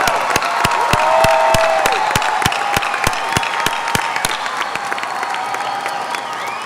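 A graduating class gets applause from the crowd at a 2024 high school graduation ceremony, with loud sustained clapping from a large audience and a sharp rhythmic clap close by that fades toward the end.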